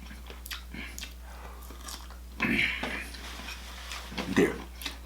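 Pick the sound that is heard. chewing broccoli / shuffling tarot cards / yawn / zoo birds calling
chewing broccoli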